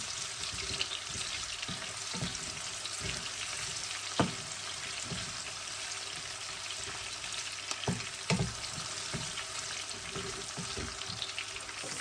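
Garlic sizzles steadily in a hot pan for sotanghon soup, a continuous frying hiss with a few light clinks and stirring knocks, no talking.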